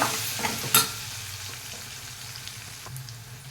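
Onions, green chilies and turmeric sizzling in a hot pan, a soft continuous fry with a sharp clink of a utensil early on and a few light stirring scrapes, no voices.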